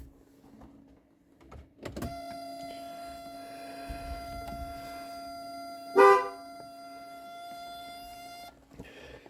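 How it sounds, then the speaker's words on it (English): A Mercedes 500SEL with a Town and Country horn sounds one long steady blast, then a short sharp toot, each standing alone in a quiet garage between soft clicks. "I wonder if the horn works."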